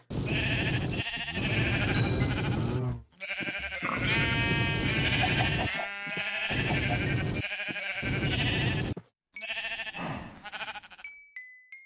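Sheep bleat over and over in the video game Agrarian Skies 2, a chorus of loud, close, wavering cries running almost continuously with short gaps, then a few bright chime-like tones near the end.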